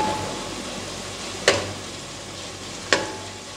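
Turmeric and spices cook dry in a pan with no water, a soft steady sizzle broken by two sharp spoon knocks against the pan; no speech.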